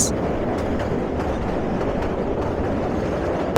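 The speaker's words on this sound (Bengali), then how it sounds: "নিচে শীতলক্ষ্যার জল, আর তার ওপর দিয়ে ঢাকার পথে ছুটে চলছে কিশোরগঞ্জ এক্সপ্রেস।" The Kishoreganj Express rumbles across a bridge over the Shitalakshya river, bound for Dhaka, a loud continuous roar of wheels and carriages with faint rhythmic clatter.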